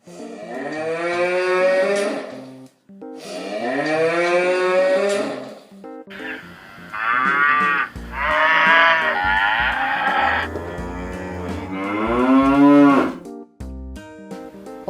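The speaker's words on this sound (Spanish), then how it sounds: "Vaca." Long, deep lowing from farm cattle, several drawn-out moos one after another, loud and close with short gaps between calls and no talking.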